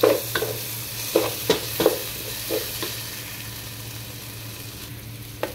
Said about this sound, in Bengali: দিয়ে নাড়া দিয়ে দেবো।